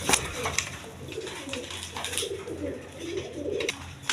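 Large, high-quality pigeons at a seller's loft, among fancy breeds such as Rasgolla and red Gorra, coo in low repeated throaty calls close by, with scattered short higher sounds over a quiet background.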